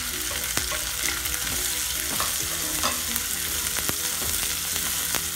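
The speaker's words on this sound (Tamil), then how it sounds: "வெங்காயம் நல்லா வதங்கட்டும்." Onions, dried red chilies and curry leaves sauté in hot oil in a pan for a fenugreek-leaf stir-fry, giving a steady loud sizzle with sharp spatula scrapes and clicks scattered throughout.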